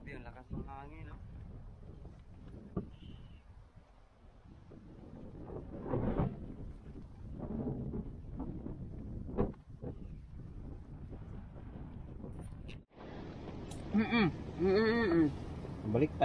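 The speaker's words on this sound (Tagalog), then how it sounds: "Grabe ang lakas ng hangin oh." Strong wind roars and buffets the microphone steadily, with people talking over it and a louder gusty rumble toward the end.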